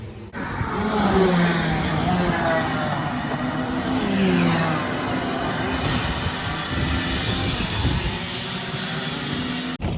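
Senior Rotax racing go-karts lapping the Fulbeck track, a loud continuous engine drone with rising and falling revs as karts pass, steady throughout with no break.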